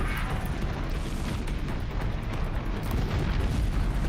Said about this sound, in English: Got that explosion off.